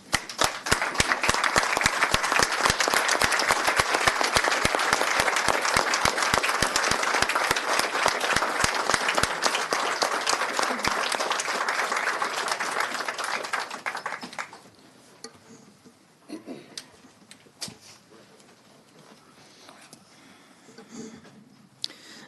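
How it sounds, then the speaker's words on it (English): Sustained applause from an audience at a county board of supervisors meeting, dense and steady for about fourteen seconds before breaking off into a few scattered claps and quiet room noise. "Now, please join me in an applause."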